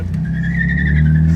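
A BMW E36 drifts with a loud, sustained tire squeal over a steady engine drone, close and continuous.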